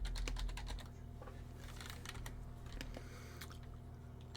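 Rapid keyboard typing on a computer keyboard, a quick run of clicks at the start, then scattered keystrokes over a low steady hum, fairly faint and close.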